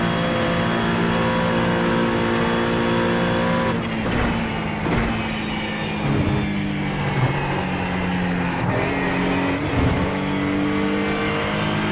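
A race car engine roars continuously at Daytona in the iRacing sim, its steady high-revving drone dipping briefly with gear changes and throttle lifts, loud and close throughout with no talk.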